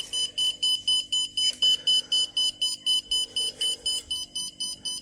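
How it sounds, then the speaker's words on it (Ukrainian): A radiation dosimeter's alarm siren sounds as a continuous run of evenly spaced, shrill beeps, about three per second, loud and close, with a faint background hum and no talk. "от сирена вже спрацювала, що воно фонить"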